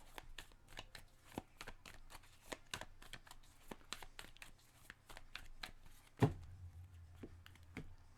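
Tarot cards riffled and shuffled by hand in a steady run of crisp, close flicks and taps, with a louder thump partway through and quiet room tone, no talking.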